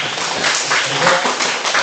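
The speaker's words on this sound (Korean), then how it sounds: "큰 박수 부탁드립니다" Teachers and students at a school summer break ceremony applaud an award-winning student, a dense continuous burst of clapping filling a large hall, loud and steady with a faint voice mixed in.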